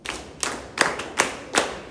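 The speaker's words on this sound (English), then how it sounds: "Let's clap for him." An audience at a school presentation claps in a short burst, five distinct sharp claps in even rhythm, close and moderately loud with no talk over them.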